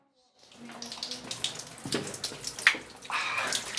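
Hot water gushes steadily from a tap in a student dormitory in Kuzman, Macedonia, a continuous splashing stream that starts after a brief silence and grows louder, with faint movement and clatter mixed in.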